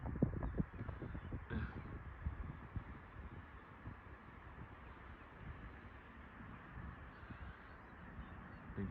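Crows cawing in the open air around sunrise, a few distinct calls early on over a steady faint outdoor hiss that continues throughout.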